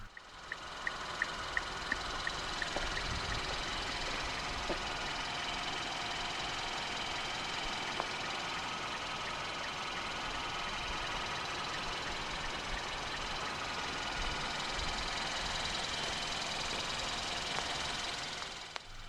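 A 2014 Kia cee'd 1.6 GDI petrol engine idles steadily for the whole stretch, a constant even hum with faint ticking, heard alone without talk.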